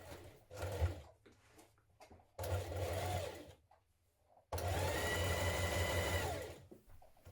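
Sewing machine hemming the double-folded edge of a summer dress, running in three close bursts of steady stitching, with brief pauses between them and the last run the longest.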